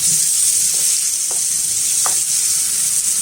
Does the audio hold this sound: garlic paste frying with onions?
yes